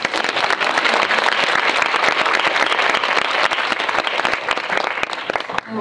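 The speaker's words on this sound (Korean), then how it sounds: "박수" An indoor audience at a film screening talk bursts into dense, loud applause that holds steady for several seconds before tapering slightly, with a little voice murmur underneath.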